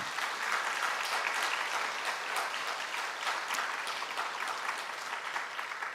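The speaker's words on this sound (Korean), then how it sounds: "우리 감사의 박수 올려주시면 어떨까요?" A church congregation applauds during a Sunday worship service, producing dense, even clapping that holds strong and steady for about six seconds with no talking over it.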